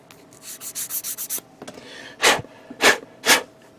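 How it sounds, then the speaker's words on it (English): Sanding down the nubs on a plastic 1/144 HG Gundam model kit part: a quick series of short rubbing strokes, then three longer, louder scrapes, close and alone. "sand down the nubs there"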